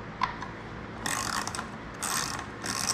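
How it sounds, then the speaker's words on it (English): A regular ratchet turning a 3/16 hex drive on the air filter cover bolts of a Harley-Davidson motorcycle, with two bursts of quick close clicking after a quiet start. "That's accomplished with a 3/16 hex drive and just a regular ratchet."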